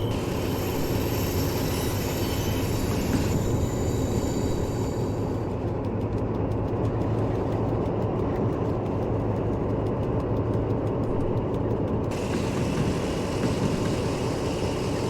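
A train rolls along rails through the Taurus Mountains of Turkey in Train Simulator Classic, a loud, constant low rumble of wheels and engine with a high squeal that comes and goes, and no voices.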